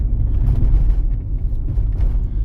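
Car engine droning low and steady while driving at about 40 km/h in third gear, with a constant rumble inside the cabin.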